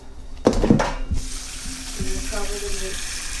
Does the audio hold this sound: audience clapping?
no